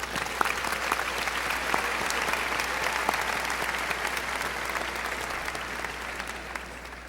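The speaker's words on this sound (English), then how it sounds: "Please, a round of applause for the exemplary teachers and administration of Hebron High" Steady applause from the audience at a Hebron High School graduation, a broad wash of clapping that holds evenly and tapers slightly toward the end.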